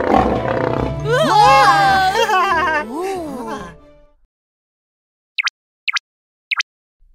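Lion roaring in a children's animation, a loud rising and falling growl lasting several seconds, followed by silence and three short high chirps.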